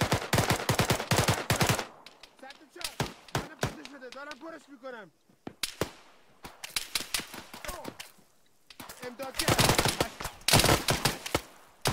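Rapid bursts of automatic gunfire and single shots crack during an Arma 3 military assault on an ammunition cache, loud clustered volleys broken by a quieter gap where people talk.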